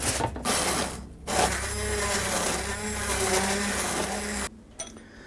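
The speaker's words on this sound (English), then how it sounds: "someone reminded me that I can use my immersion blender" An immersion blender purees cheddar broccoli soup, whirring continuously for several seconds with a churning, grinding motor sound, starting and stopping abruptly.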